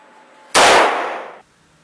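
A single loud, sharp report from an AR-15 rifle firing an expanding bullet into a ballistic gelatin block, followed by a brief decaying ring and then quiet.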